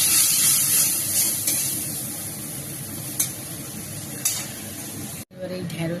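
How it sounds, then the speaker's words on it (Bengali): Spice paste with tomato and water sizzling and hissing steadily in a hot pan, loud and close, with a sharp drop near the end before the frying resumes. "জল দিয়ে মশলাটাকে কষে নেবো।"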